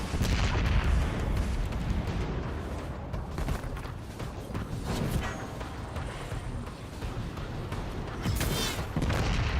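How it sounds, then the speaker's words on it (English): Rapid explosions and gunfire erupt in Destiny 2 combat, forming a loud, continuous barrage of booms and crackling blasts with a sharp burst near the end. "A lot of things to explode."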